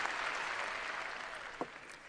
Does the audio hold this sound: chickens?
no